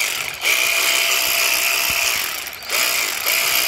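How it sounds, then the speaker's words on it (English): A small cordless ratchet runs close and loud, a continuous buzzing mechanical whir with short breaks as the trigger is released and pressed again. "So it's basically just a little cordless ratchet."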